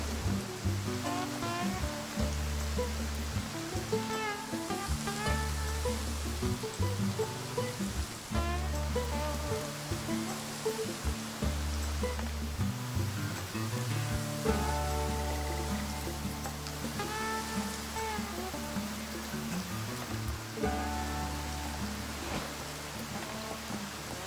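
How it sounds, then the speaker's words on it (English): Steady rain in the hunting video game Way of the Hunter during a thunderstorm, a continuous wash of falling water heard under a layered musical or ambient bed, moderately loud throughout. "Just hang out. I guess and enjoy the rain."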